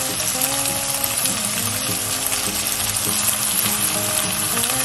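Chicken pieces fry in a pan until golden brown for pesto spaghetti, giving a steady, close sizzle and crackle of hot oil that runs evenly throughout with no talking.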